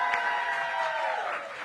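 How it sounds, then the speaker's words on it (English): A crowd at an elementary school's back-to-school night with the mayor breaks into steady, dense applause with a few cheers, the clapping sustained and fading slightly at the end. "Let's give the Whitlock teachers and staff a big round of applause."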